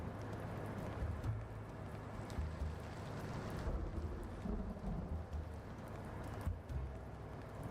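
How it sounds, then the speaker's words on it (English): Steady rain pours throughout a stormy video-game scene while low rumbles of thunder roll in and out beneath it, with no voices. "Let me frolic in the rain at high speeds."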